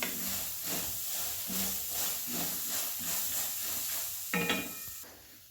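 Sprouted moth beans roast in a hot pan with a steady broadband hiss and sizzle, broken by soft periodic scraping from stirring, then a brief louder clatter near the end before it quiets.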